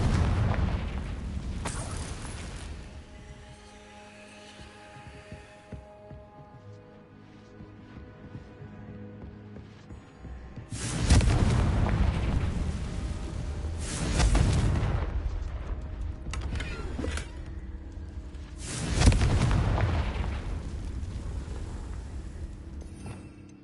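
A Confringo fire spell sets off explosions in a Harry Potter video game, with deep booming blasts and rumbling bursts that swell several times over a steady background of game ambience, loud and close.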